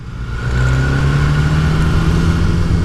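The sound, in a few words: BMW S1000R motorcycle with aftermarket silencer accelerating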